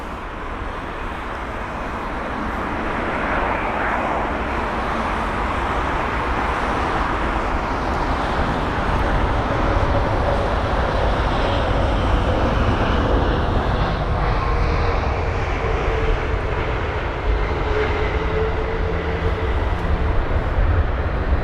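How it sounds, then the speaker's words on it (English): A three-year-old jet airliner arriving at Heathrow from Houston gives a broad, steady engine roar that swells gradually as it draws nearer and stays loud to the end. "The aircraft is arriving from Houston, an 8-hour and 28-minute long journey"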